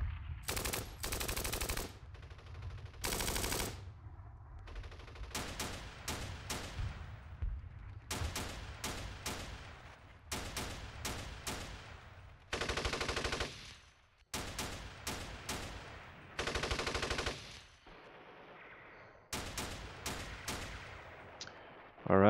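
Machine-gun and gunfire bursts from the Steel Panthers war game in an Iran-Iraq 1980 battle, sharp repeated volleys separated by short gaps of quieter background, loud and alone with no talk.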